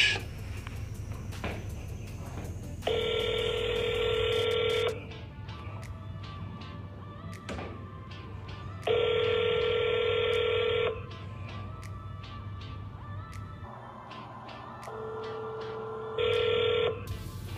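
A phone call is placed: quick dialing tones, then a repeated electronic ringback tone in long, evenly spaced bursts with quiet gaps between, clear and up close.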